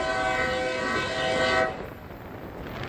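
A train horn sounds as a salute to a bridge maintenance crew near a crossing, one sustained loud blast that cuts off partway, leaving rumbling rail noise behind.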